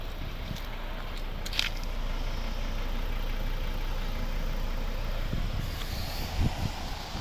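A 2012 Volvo V60 R-Design with a 2.0 D4 diesel engine and automatic gearbox idles steadily, with a low even rumble beside the exhaust, some wind buffeting and a few faint knocks near the end.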